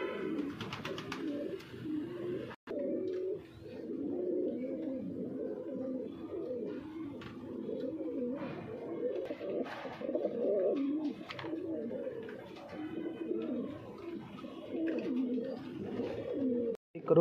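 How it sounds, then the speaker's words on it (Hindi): Punjabi Malwai pigeons cooing close by in a steady series of soft, throaty, rolling coos that repeat almost continuously, with a few faint clicks and no talking. "खुश्क पंजे का कबूतर भाई"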